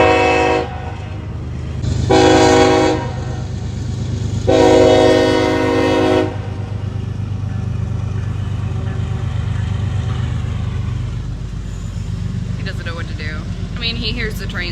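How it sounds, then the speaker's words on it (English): A loud passing train sounds its horn in three long blasts, followed by a steady heavy rumble of rail cars rolling close by. "He hears the trains all the time, but not normally that loud."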